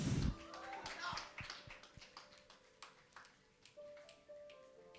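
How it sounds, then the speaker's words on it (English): A woman claps at a palm wine and poetry session at the Ake Festival, producing a series of sharp, fairly faint claps spaced irregularly, with talking alongside. "She clapped."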